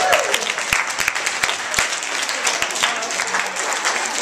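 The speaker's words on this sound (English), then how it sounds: "Give yourself a round of applause." An audience claps continuously at a workshop on sexuality and relationships, a dense, steady wash of many hands at close range with no talking over it.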